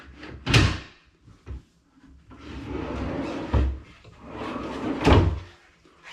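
Wooden drawer boxes slide into a cabinet with three sharp knocks as they seat, separated by softer scraping slides.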